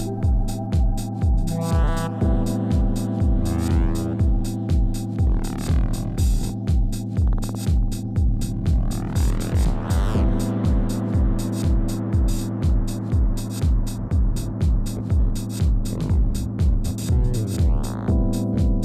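A catheter coil winding machine runs steadily, giving a loud, continuous mechanical hum with a regular throbbing pulse and whirring tones that rise and fall, with no voices.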